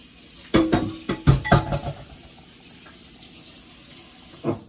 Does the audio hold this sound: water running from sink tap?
yes